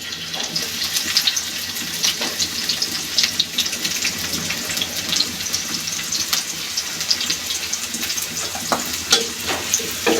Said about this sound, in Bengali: তেলের পরিমাণটা একটু বেশি দিব, কারণ ভেন্ডিটা মশমশা করে ভাজবো।